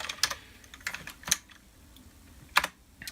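Typing on the computer keyboard of a Dell OptiPlex GX270 desktop, a few quick bursts of clicking keystrokes with short pauses between, close and fairly quiet, with no voices.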